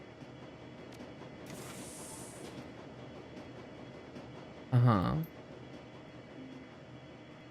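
Steady low rumble of a train car in Shadowrun: Dragonfall, a constant rolling drone running throughout with a brief hiss near the start and a short loud burst as someone murmurs a quick reply.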